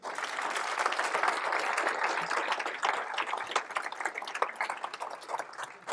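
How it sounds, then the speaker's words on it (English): A graduation audience applauds the parents in a sustained round of dense clapping with a few louder individual claps, steady and fairly close for about six seconds. "let's give them one more round of applause"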